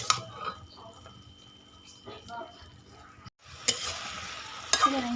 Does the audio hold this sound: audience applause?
no